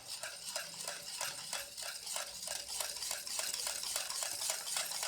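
A whisk beats an ice cream mixture with vanilla essence in a bowl as it cools. Quick, even, rhythmic strokes repeat close by over a soft background, with no talk.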